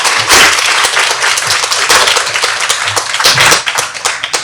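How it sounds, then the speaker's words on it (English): Audience clapping at a nursing oath-taking ceremony for first-year nursing science students, a loud, dense round of applause that holds steady throughout with sharp individual claps standing out. "Let's give you a hand of applause."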